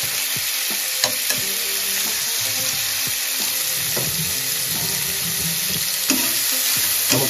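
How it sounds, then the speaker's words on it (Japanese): Meat searing in a hot pan for a homemade stew, with a loud, continuous close sizzle and occasional clinks and scrapes of utensils in a home kitchen. "ここで表面にね、焼き色をつけることで、肉の旨味を閉じ込めるんだって。"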